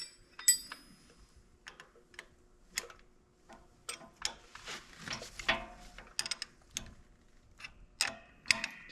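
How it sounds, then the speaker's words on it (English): A hand wrench tightens a bolt on an Exmark Vertex X Series mower while a grass flap is fitted, giving close, crisp ratcheting clicks in uneven bursts with metallic taps between them, and no talking. "Go ahead and hit that with a wrench."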